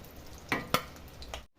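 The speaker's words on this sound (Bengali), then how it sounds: "এবার আমি এই তেলের মধ্যে ডিমগুলো ভেজে নিব" Boiled eggs fry in oil for egg biryani: a low sizzle broken by two sharp clacks of a utensil against the pan, a few softer knocks, then abrupt silence.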